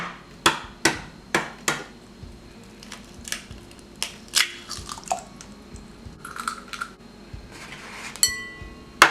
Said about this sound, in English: Crack 3 room temperature eggs.